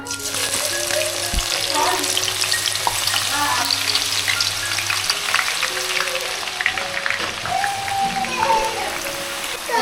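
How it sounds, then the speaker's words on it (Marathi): Onion frying in hot oil for a home-cooked chicken biryani, a loud continuous crackling sizzle with scraping stirs throughout, close up, with faint voices in the background. "तेल गरम झालेलं आहे त्याच्यामध्ये आपण कांदा टाकूया"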